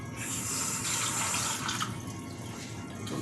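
Tap water runs into a kitchen sink for rice and beans cooking, a steady close splashing stream that lasts throughout with slight changes in flow.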